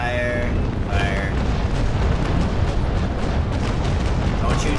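Ship cannons firing in the Naval Action video game during a large fleet battle with the USS Constitution, heard as a dense, continuous rumble of booms and blasts, loud throughout, with wood debris and a voice over it.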